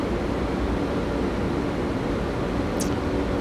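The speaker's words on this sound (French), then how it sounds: "elle ventile énormément cette borne" Cooling fans of an electric vehicle charging station roar with steady, loud broadband whooshing that holds unchanged throughout, close by and without speech.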